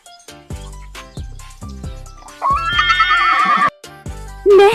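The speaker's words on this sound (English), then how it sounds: "This tall animal wears horseshoes and says neigh." A horse whinnies loudly in a long, wavering neigh, preceded by several short clopping and percussive hits and followed by a brief higher call at the end.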